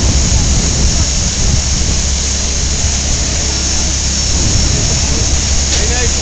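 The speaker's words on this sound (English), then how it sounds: "We're here as a trolley goes by." A trolley tram rolls past on a street in Helsinki, a loud, broad, continuous rumble and roar close by that stays steady throughout the clip.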